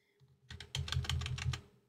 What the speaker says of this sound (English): I'm going to use the arrow keys to nudge it into place.